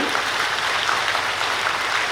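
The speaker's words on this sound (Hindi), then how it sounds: "बजा दीजिए ताली" An audience at a Brahma Kumaris gathering in Bettiah, Bihar claps together, a dense, even burst of applause filling the room without a break.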